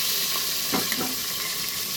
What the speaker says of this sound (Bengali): মুড়োটা ভাজা হোক